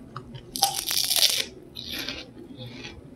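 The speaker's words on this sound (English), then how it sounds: "Can you hear that crunch?" Loud, sharp crunching as microwaveable bacon curl pork rinds are bitten and chewed close up, a dense burst of crackles followed by softer chewing crunches.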